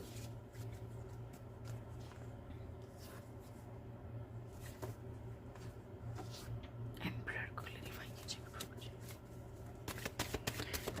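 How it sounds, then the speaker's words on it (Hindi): Tarot cards are shuffled by hand in short, soft papery bursts over a steady low hum, quiet and close, with a few sharper riffles near the end. "एक शफल ले लूं, सॉरी।"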